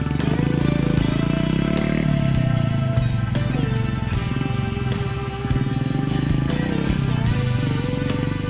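A motorcycle hauling a load of oil palm fruit along an overgrown plantation path, its engine droning loud and close throughout with shifting revs and rattling.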